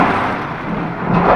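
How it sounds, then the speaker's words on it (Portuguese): Heavy rain driven by strong wind in São Vicente, a loud dense roar of downpour that fills the whole moment and swells slightly toward the end, with no talking. "Muita chuva. Ai, chuva e vento."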